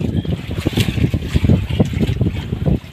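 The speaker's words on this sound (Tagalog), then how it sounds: "lakas ng amihan" Strong northeast monsoon wind gusts across an island shoreline, a loud rumbling buffet on the microphone with choppy, rough surges throughout.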